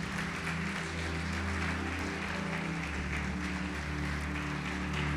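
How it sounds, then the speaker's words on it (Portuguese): Applause from a church congregation during a Portuguese-language sermon, a steady continuous wash of clapping held at an even level for several seconds, with a low droning hum running underneath. "Pode aplaudir e glorificar o Senhor."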